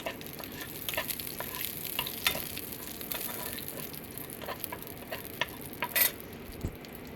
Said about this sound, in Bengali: এটাকে একটু আমি নেড়ে নেবো